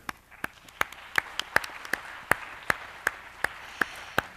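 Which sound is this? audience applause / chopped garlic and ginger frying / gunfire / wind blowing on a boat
audience applause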